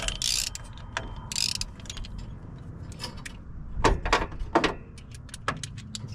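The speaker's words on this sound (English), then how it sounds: "I'm going to go through here and tighten the power steering pump real quick." Ratchet wrench tightening the 12 mm power steering pump bolts on a 2004 Suzuki Grand Vitara, with short bursts of close clicking, a few louder ratchet runs in the middle, and metallic handling sounds between them.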